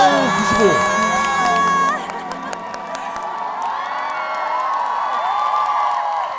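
Studio audience at a Korean TV trot dance-battle show clapping and cheering, loud and bright under a presenter's voice and music, with a lively crowd swell that settles into steady clapping.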